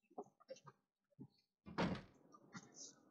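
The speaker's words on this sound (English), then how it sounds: "Out to the front door. We're leaving the camp office." The front door of a camp office in The Long Dark video game opens with a creak and heavy thunk after a run of soft footsteps, close and clear, with no talk over it.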